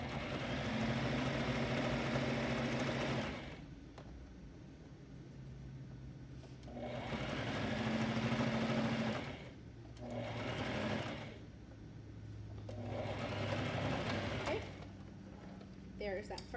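A home sewing machine stitches a seam on boys' pyjamas, running in long steady bursts of whirring motor hum with brief pauses between runs, close and fairly loud.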